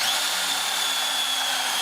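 A power drill whines steadily at close range while countersinking screw holes in the lock and tang area of a Hawken rifle build, a loud continuous high-pitched buzz with no pauses.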